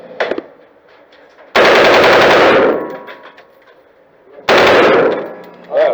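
Automatic rifle fitted with a muzzle brake firing at a shooting range, two loud sustained bursts of rapid full-auto fire, each about a second long, separated by a brief lull with faint sounds.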